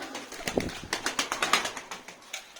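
Pigeons in a coop give repeated soft coos and bursts of wing flapping, a close, busy series of rhythmic pulses with no talk over them.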